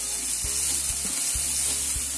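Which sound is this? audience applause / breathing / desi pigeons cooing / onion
onion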